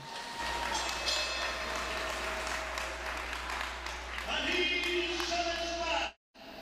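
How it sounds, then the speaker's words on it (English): Applause from a boxing crowd greeting a professional-debut fighter out of Guatemala, a broad sustained wash of clapping and crowd noise with a steady low hum beneath, cutting off abruptly near the end. "give him a big round of applause, Neri Vega"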